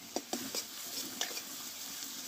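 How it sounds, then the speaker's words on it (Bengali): Spice masala for a spicy Bengali-style chicken curry being fried and stirred in a pan: a soft continuous sizzle with a few quick scraping strokes of a spoon, close and quiet. "আরও আমি 1 মিনিট মতো মশলাটা কষে নেব"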